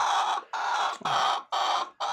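A hen about to lay an egg gives a series of repeated clucks in four or five even bursts, close and clear, with short gaps between them.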